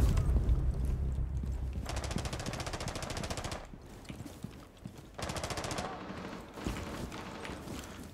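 Rapid automatic gunfire from a submachine gun in Rainbow Six Siege, bursts of tightly spaced shots in two long volleys with short gaps, loud and close amid game effects and quiet voice chatter.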